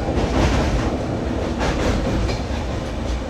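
The 12378 Padatik Express runs on the rails near Dum Dum, a loud, steady rumble of wheels and carriages heard from on board, with no voices.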